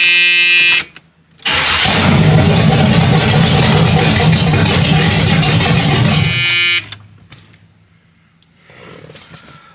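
A 1978 Chevrolet Malibu Classic engine cranks and catches with a loud, steady roar for several seconds. It then drops to a quieter, low idle that fades out near the end. No voices are heard.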